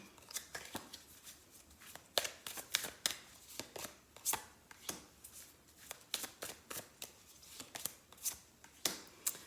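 A tarot deck being shuffled by hand, producing a steady run of crisp, close riffling and flicking card sounds in quick repeated bursts, quiet and alone without talk.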